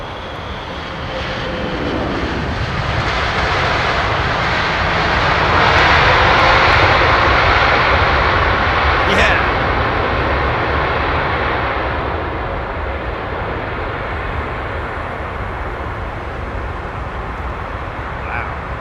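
A WestJet airliner at Heathrow gives a sustained, loud engine roar that builds to a peak midway and eases off gradually, with a brief faint whine, unaccompanied by speech.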